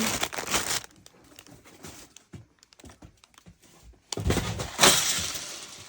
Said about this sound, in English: oops, I just dropped all my beads